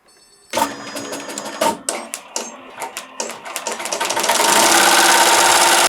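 An embroidery machine stitches a name in white thread onto the heart of a Blankey Buddy plush bear, first with rapid stop-start mechanical bursts, then with loud continuous whirring chatter as it runs steadily.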